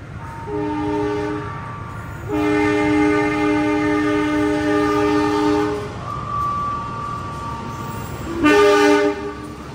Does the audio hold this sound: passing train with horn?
yes